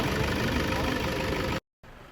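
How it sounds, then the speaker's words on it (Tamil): A Toyota Innova engine runs with a loud, steady mechanical drone up close. It lasts about a second and a half, then cuts off abruptly into quiet. "நான் அப்படியே வண்டி ரேஸ் பண்ணேன்"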